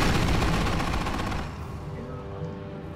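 Gunfire in the Company of Heroes video game: dense rapid bursts of shots, loud and close, rattling for about a second and a half before dropping to a lower rumbling battlefield background.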